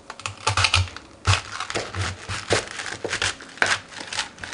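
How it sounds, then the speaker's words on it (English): A knife slices cabbage into half-inch strips on a board, making a string of crisp, crunchy cuts and taps at an uneven rhythm, close and moderately loud. "Now I'm just going to cut it in like 1/2-inch strips"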